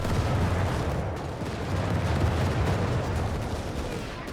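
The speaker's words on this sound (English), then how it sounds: "Also got heavy flak fire in the aircraft as they pass through." Heavy flak fire aimed at passing aircraft in the strategy video game Company of Heroes 3, a dense, continuous rumble of rapid gunfire and blasts that stays loud throughout with no voices over it.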